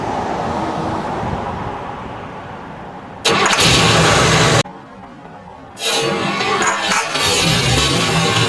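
Buick car engine hot restarted after running: a low background hum, then a loud burst of engine noise that cuts off, a brief quieter gap, and the engine catching again and running steadily, close by.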